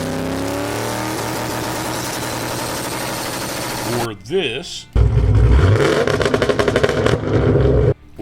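A car engine drones and revs, then a short word is spoken before a loud, rough burst of rapid exhaust pops and crackles.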